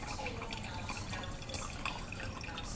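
Brewed coffee drains through a stainless steel reusable dripper, a faint, steady trickle with scattered soft drips and no talking.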